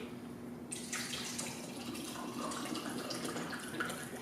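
Fiji water pours into a cup holding a green tea bag, a steady bright splashing stream that starts abruptly and continues to the end, close and moderately loud.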